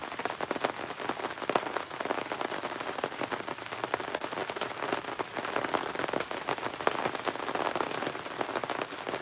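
Steady rain patters on surfaces outdoors during gold sluicing, a dense continuous hiss with scattered sharper drops, moderately loud throughout with no talking.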